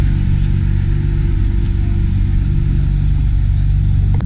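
Mercedes SLK 55 engine at a supercar gathering, a loud, steady low rumble with a deep throbbing tone held without any clear rise or fall in revs.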